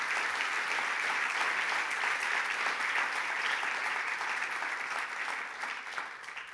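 A church congregation applauds loudly and steadily for several seconds, a dense wash of clapping that fades a little toward the end.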